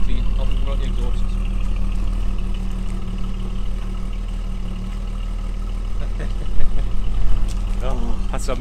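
A 1978 Jaguar XJ6 barn find idles steadily after revival, a low, even engine hum with a constant rumble throughout and a brief louder surge near the end, with some faint handling noise around it.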